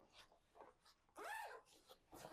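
A travel backpack's back panel zipped shut, one quick rising zip of about half a second, close and fairly loud, set among soft handling rustles.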